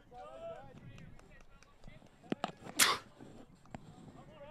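A single sharp sneeze bursts out loudly amid ongoing baseball commentary, with voices continuing before and after.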